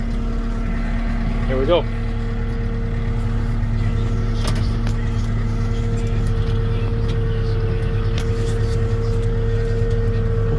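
A tractor in low-range four-wheel drive strains against a stuck pickup truck, its steady engine drone loud and close throughout, while someone speaks briefly over it.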